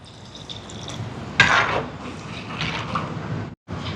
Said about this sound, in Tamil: இதுக்கு தேங்காய் பால் சேர்ப்போம்